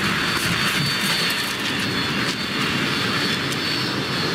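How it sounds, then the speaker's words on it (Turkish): Loud, steady rushing roar of an airplane crashing and breaking apart in the video game The Forest, a dense wall of engine and wind noise with no pauses. "Uçağın önü koptu lan."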